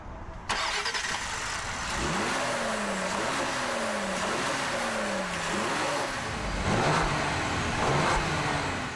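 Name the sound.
2020 Ford Explorer Platinum twin-turbo V6 accelerating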